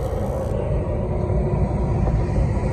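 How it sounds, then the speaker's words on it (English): The induction motor of a Carrier or Trane gas furnace runs up during a no-heat call, giving a loud, steady, low rumble with no voices. "My induction motor starts."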